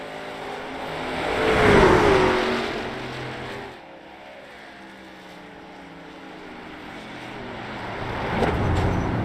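Racing truck engines roar during the final lap of a sim racing game, a loud engine swell passing near, fading to a steadier drone, then surging again toward the end with no talking.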